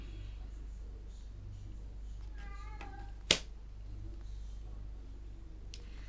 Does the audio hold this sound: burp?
no